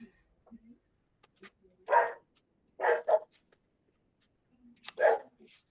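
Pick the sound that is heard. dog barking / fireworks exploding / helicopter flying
dog barking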